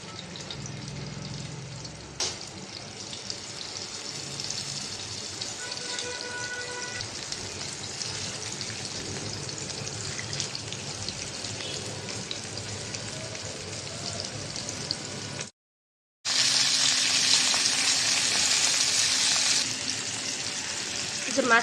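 Turmeric-and-chili-coated fish frying in hot oil, a dense continuous sizzle close up with brief clatter at the start, a short silent gap, then a louder burst of hissing.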